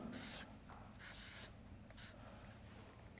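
Quiet scratching of a pen as Arabic letters are written by hand in a lesson, short strokes in several bursts separated by near silence, faint and close.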